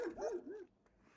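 A puppy gives a short, high yelping bark close by, a quick rising and falling cry followed by quiet.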